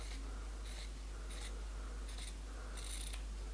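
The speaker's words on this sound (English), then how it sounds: "We're just going to cut this out" Scissors cutting through a T-shirt in four or five distinct snips, each a crisp close-up slicing sound with short pauses between, over a constant low hum.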